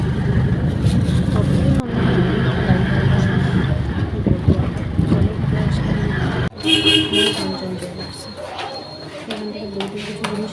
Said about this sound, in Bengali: অটোতে উঠে গেলাম।